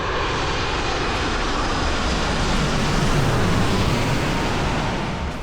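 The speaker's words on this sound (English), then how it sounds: "it goes directly under the flight path of Sydney Airport, so you can get awesome shots like this of planes." A fixed-wing airplane passes low overhead beneath the Sydney Airport flight path, a loud, steady broadband engine roar that swells slightly toward the middle and fills the whole stretch with no voices.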